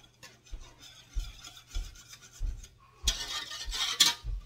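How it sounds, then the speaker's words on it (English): A utensil scrapes brown bits from the bottom of a hot pan while frying chicken tenders, giving rough rasping strokes in bursts, with a louder, denser stretch of scraping toward the end. "I'm just scraping down any of those brown bits I see."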